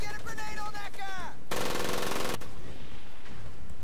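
Gunfire in Medal of Honor: Pacific Assault, a rapid machine-gun burst lasting about a second, loud and dense, following a stretch of game voices and ending abruptly into lingering noise.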